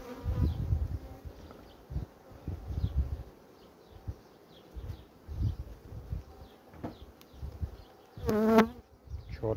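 Honeybees from a strong colony buzz steadily at close range during queen-rearing starter preparation, a dense droning hum with louder bursts and a sharp rising whine near the end.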